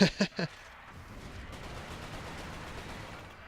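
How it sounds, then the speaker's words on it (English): Three sharp explosive bursts from an air fuel grenade in Resistance: Fall of Man go off in quick succession, followed by a steady low rumbling wash of battle noise with no talk. "We're gonna air fuel grenade these guys."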